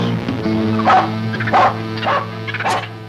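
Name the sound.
cartoon dog barking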